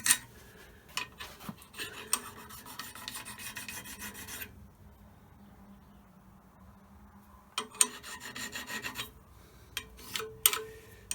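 A metal edge is filed dry on a diamond sharpening stone with no lubricant, giving close rasping strokes in bursts with a silent pause in the middle.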